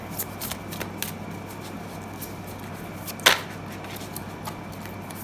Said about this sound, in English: I'm going to shuffle this just a few more times